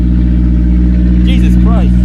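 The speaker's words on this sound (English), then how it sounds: "And then you press the engine start." A Honda S2000 with a newly installed exhaust starts and idles loudly, a deep, steady droning hum with strong low harmonics while people talk over it.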